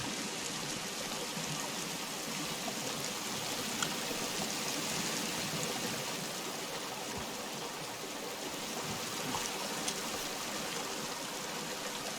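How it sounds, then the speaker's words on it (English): A stream flows in the Sons of the Forest video game with a steady, close, rushing burble of water that stays even the whole time, with no voices. "the noise of the water, like how disrupting that'll be for viewers"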